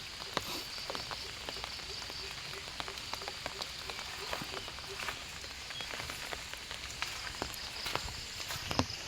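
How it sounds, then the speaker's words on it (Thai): Rain falls during an early morning walk, a steady soft patter of drops on nearby surfaces with scattered sharper ticks, continuous and moderately faint throughout. "แต่วันนี้มีฝนตกด้วย"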